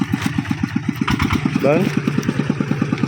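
A motorcycle engine idles and runs close by with a steady, rapid chugging pulse throughout, rising briefly as it is revved, while someone speaks over it.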